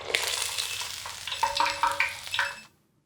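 Steak deep-frying in oil in a fryer at 400 degrees, a steady close bubbling sizzle with crackling pops that rises and falls for about two and a half seconds, then cuts off to silence.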